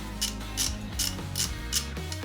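A ratchet snugs up the bolts on an S&S motorcycle oil pump, its pawl clicking in short, even bursts about every half second, close and alone.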